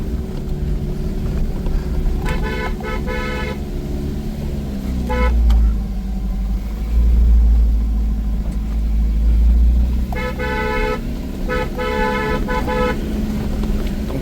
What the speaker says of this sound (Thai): เปิดต้องบีบแตรครับเดี๋ยวเขาซัดขึ้นเนินมา